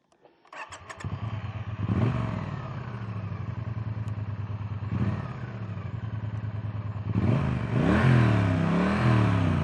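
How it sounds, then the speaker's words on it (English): A Triumph Bonneville T100 with a 900cc engine and pea shooter exhaust pipes cranks and fires up, then settles into a close, loud, throbbing idle with a few sharp revs near the end. "So let's fire up the 900cc T100 Triumph Bonneville."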